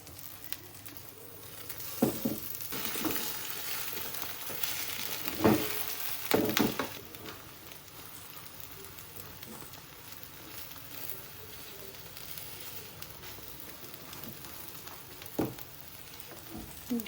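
An egg fries in a covered pan over a lowered flame, giving a steady, soft sizzle with a few sharper crackles and clatters rising above it.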